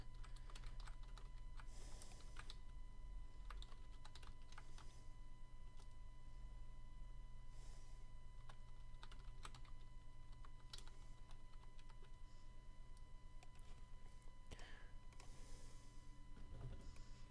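Fingers type steadily on a computer keyboard, a continuous run of quick, close clicks and tapping, with a few louder key strikes and no voices.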